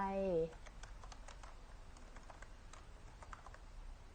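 Key taps on a computer keyboard while entering text in PowerPoint, a brisk run of light clicks at close range after a brief spoken word at the start, fairly quiet throughout.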